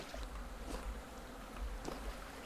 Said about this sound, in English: Just waiting for the bees to go away now.